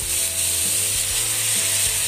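Cabbage sizzling and being stir-fried with soy sauce in a pan, a steady close hiss with scraping strokes of the spatula every half second or so, no voices.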